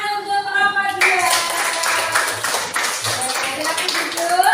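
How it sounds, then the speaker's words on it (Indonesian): Classroom applause for a student group after their presentation, a dense burst of many hands clapping together with voices talking and calling out over it. "Tepuk tangan untuk kelompok 2"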